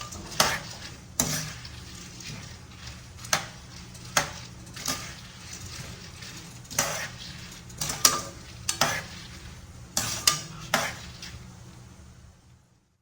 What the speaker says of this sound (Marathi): हे डाळ पण आपण छानपैकी लाल रंगावर तळून घेऊया